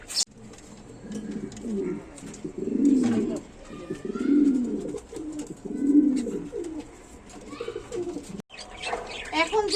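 Farm-raised pigeons coo in low, repeated rolling calls, three clear bursts at an even pace, with soft chirps and a brief wing flutter nearby.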